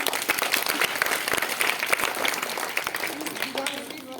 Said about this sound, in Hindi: जोरदार तालियां इन बच्चों के लिए।